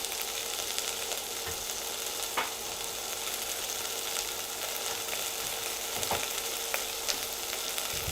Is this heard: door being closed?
no